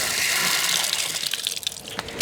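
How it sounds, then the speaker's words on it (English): Water gushes and drains from an existing tank water heater being replaced with a Bradford White unit, a loud rushing flow that thins into spattering trickles toward the end. "We're draining the water from the existing water heater"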